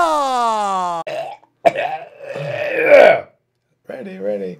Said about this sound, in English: I was just clearing my throat.